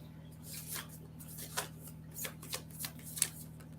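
A deck of cards is shuffled for a psychic card reading, with soft riffles and slaps arriving in a loose irregular rhythm, close but quiet over a steady low hum.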